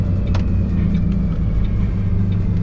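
A MAN TGM 18.250 refrigerated rigid truck rumbles as its auxiliary brake holds it back, a steady low droning heard from inside the cab with faint clicks and rattles over it.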